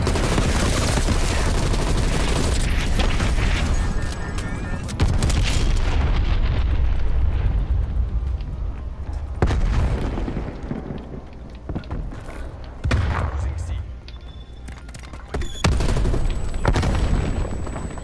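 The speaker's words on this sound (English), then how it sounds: "you dare fire a thumper at me?" A dense, loud barrage of video game explosions and rapid gunfire, with thumper grenade launcher blasts, booms and sharp cracks piling up continuously over eighteen seconds.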